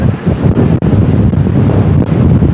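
Strong stormy wind gusts by the sea at Anapa, roaring loudly and continuously into the microphone with no voices.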